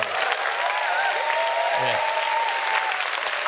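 A lecture audience applauds a musical opera singer, a loud, dense wave of clapping that holds steady from start to finish, with a brief spoken word from the speaker over it.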